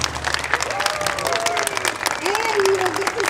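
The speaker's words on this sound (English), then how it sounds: "Now let's give them another big hand of applause." Crowd applause at an outdoor Christmas tree lighting celebration, sustained clapping and cheering with whistles and voices mixed in throughout.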